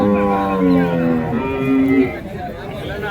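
A cow moos loudly and close at a busy cattle market, with long low lowing calls over a murmur of crowd chatter.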